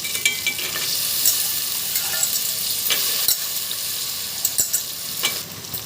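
Green peas sizzle and fry in hot oil with ginger and garlic in a pan, a steady close crackling hiss with occasional stirring scrapes and brief louder pops, no voices.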